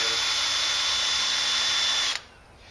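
A power drill with its clutch set drives screws into an exterior door frame while a pre-hung door is installed, whirring steadily and loudly for about two seconds before stopping abruptly.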